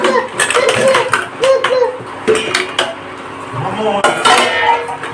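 Baby feeding bottles go into a pot of hot water with repeated clanks and knocks of plastic against metal, close and fairly loud, while a voice is faintly audible in the background.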